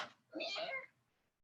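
A gray cat gives one clear, close meow, bright and fairly loud, with quiet room tone before and after.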